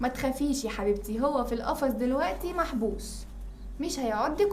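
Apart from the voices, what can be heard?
No distinct noise like a dog, phone or traffic.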